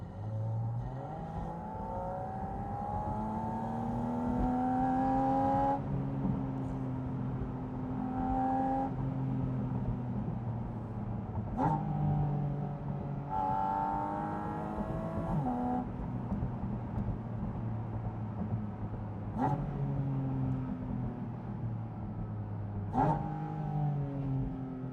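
Porsche 718 Spyder RS with the roof off, its engine screaming up toward 9,000 rpm in repeated long rising pulls, each broken by a sharp upshift crack, loud and close throughout.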